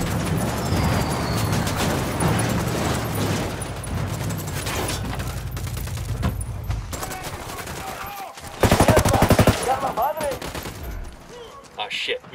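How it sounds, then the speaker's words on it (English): Sustained video-game gunfire, dense bursts of rapid shots forming a loud, continuous fusillade, then a brief pause and a sharper, louder volley near the end. "I'm opening fire."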